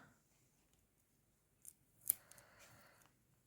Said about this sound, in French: Et je vais mettre hop, un bout de scotch